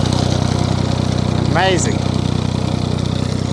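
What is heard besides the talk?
tractor engine powering a grass cutter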